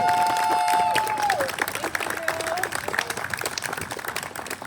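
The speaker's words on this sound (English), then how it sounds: "How about a huge round of applause for Sioo, everybody?" A crowd at an outdoor town Pride flag raising in Franklin, Massachusetts breaks into steady applause, with a brief high whistle-like tone riding over the opening claps before the clapping continues evenly.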